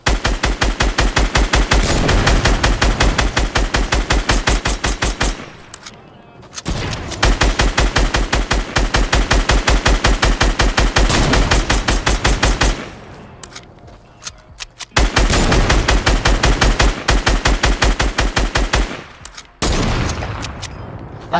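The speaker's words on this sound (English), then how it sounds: "Shoot out the trees from up top." Rapid automatic gunfire in a video game shooter rattles out in long sustained bursts aimed at trees, with short pauses between volleys. The shots are loud and close, with no talk over them.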